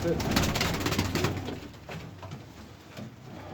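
A pigeon coos in low, repeated throaty calls close by, mixed with background chatter and rustling.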